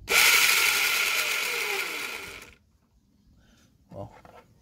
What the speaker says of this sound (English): Let's lift the rear wheel up and we hit the throttle.